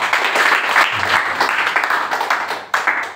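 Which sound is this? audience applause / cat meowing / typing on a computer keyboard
audience applause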